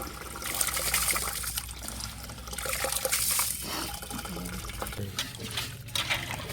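Water poured over soaked rice in a pot for dum biryani, a steady splashing, trickling pour close by that lasts throughout with no talk.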